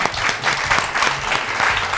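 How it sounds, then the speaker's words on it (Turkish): A television studio audience on a Turkish daytime show claps in a brief burst for a guest from a gastronomy association, with a few heavier individual claps standing out. "ablamız için kocaman bir alkış rica ediyorum"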